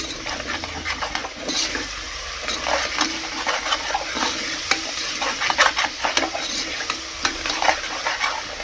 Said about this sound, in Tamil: நல்லா வதக்கிடலாம் இதையும்.